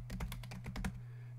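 Rapid keystrokes on a computer keyboard as a short label is typed, about eight crisp clicks in quick succession over a steady low hum, then the tapping stops and only the hum remains.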